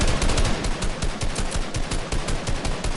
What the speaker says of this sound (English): Now see, right here, I get sniped in the back.